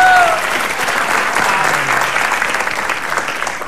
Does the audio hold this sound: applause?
yes